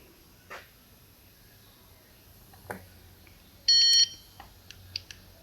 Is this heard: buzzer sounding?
yes